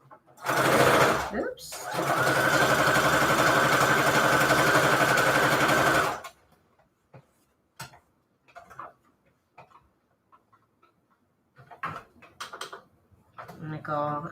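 A sewing machine runs a straight stitch in one steady, loud burst of about five seconds, then stops, leaving quiet handling noises and brief speech.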